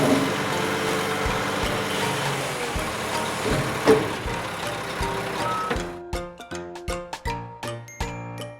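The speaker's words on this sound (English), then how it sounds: "Smaller garbage truck." A toy garbage truck in a city vehicle play set, its dense electronic sound effect giving way to a chain of bright, evenly spaced reversing beeps that ring out clearly in the final seconds.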